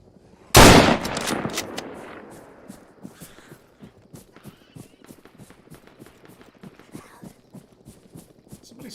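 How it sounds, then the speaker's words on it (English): Gunfire in Arma 3 begins with one loud, close blast, followed by a long series of rapid cracks and patters that fade to moderate level; no speech. "Somebody's still shooting over there."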